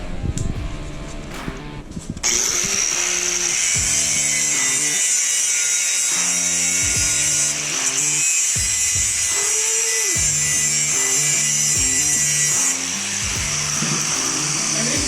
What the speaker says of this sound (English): Now I'll grind off.